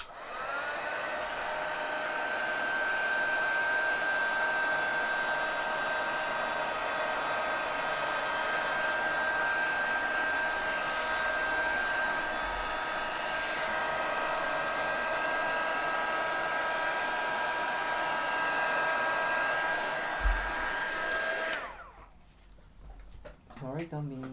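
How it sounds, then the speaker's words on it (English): A heat embossing tool blows hot air steadily over a card on a crafting table, a loud continuous whirring hiss with a whining tone that runs for about twenty seconds before cutting off, leaving quieter room noise. "I'm just gonna heat emboss that, so cover your ears."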